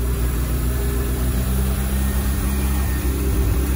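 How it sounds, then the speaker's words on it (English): A Mazda RX-7 FD with its rotary engine idling too high holds a steady, loud, continuous drone heard up close, with no talking over it. "It is idling."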